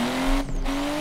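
A car in the racing video game Forza Horizon 3 drives into a wall: a loud engine drone is cut by a brief impact-like break, then the engine resumes, with no talk.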